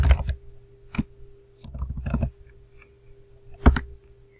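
A password is typed on a computer keyboard in a few separate bursts of close, crisp key clicks, with quiet gaps between them and no talking.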